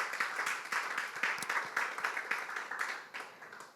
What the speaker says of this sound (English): I'm going to give a break so you can clap